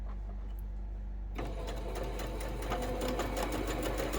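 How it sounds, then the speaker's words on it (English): A sewing machine starts up after a brief quiet moment and stitches a quarter-inch quilting seam steadily at a fast, even rhythm, close and clear. "go over to the sewing machine and do a 1/4 inch seam allowance"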